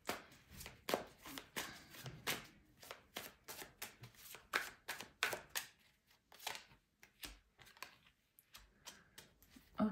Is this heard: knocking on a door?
no